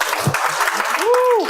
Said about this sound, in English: why don't we give a round of applause to all our performers